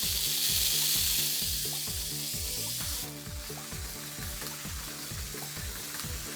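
A Samurai 4WD Junior Mini 4WD toy car motor whining at high speed, a dense buzzing hiss with a fast rhythmic pulsing beat, loud and close, shifting slightly in tone midway.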